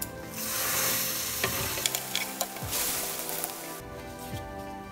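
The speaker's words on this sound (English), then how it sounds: "toast the bread on both sides" Brown bread slices toasting in a pan over a medium flame for a spicy potato sandwich, giving a soft continuous sizzle with scattered light clicks and scrapes, fairly close and without talk.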